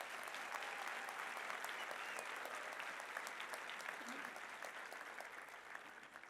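Sustained audience applause at a College of Medicine of South Africa graduation ceremony in Johannesburg, a dense, steady wash of many hands clapping throughout that eases slightly toward the end.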